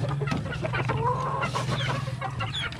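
Several hens in a backyard flock clucking and chattering continuously at close range, with no talk.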